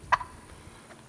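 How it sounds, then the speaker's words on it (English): A single short gobble-like call from a juvenile male turkey, brief and moderately close, followed by faint rustling and quiet background. "Here you go, turkey."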